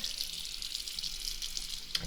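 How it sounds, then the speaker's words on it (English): Water runs from a tap into a sink in a steady, close hiss with light splashing throughout, ending with a brief clatter. "The rest of it is washing out in the sink."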